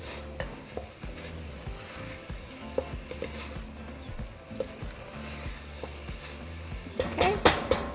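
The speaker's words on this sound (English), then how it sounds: "So mix it and give it a couple seconds" Steady sizzling of minced garlic in a hot pan with occasional scrapes and clinks of a utensil stirring, close by, continuous throughout.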